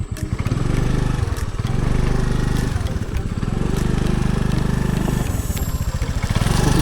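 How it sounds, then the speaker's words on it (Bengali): A scooter engine revs hard on a muddy track, loud and close, its drone rising and falling in strained surges as the wheel churns. "স্কুটির চাকা ঘুরে যাচ্ছে,"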